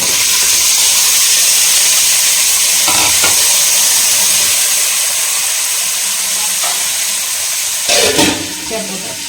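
Urad dal, chana dal and shallots fry in a pan for pirandai chutney, a loud, steady sizzle and hiss close up, with a few scraping stirs and a clatter near the end.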